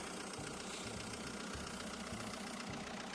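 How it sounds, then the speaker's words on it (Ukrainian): A Renault Kangoo 1.5 dCi diesel engine idles close by, giving a smooth, even low rumble with a steady pulsing rhythm throughout. No one speaks. "Чиста плавна робота двигуна."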